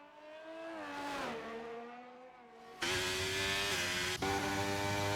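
McLaren race car on a hot lap in a racing video game, engine screaming and rising in pitch through upshifts, the sound suddenly getting louder and fuller partway through as the car passes close.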